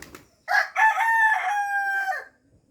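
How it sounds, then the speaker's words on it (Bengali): A rooster gives a single full crow, close and clear, rising then holding before trailing off, with near silence on either side. "এখানে মোরগ বাঘ দিচ্ছে, ছোট মোরগ গুলা বাঘ দেওয়া শিখছে"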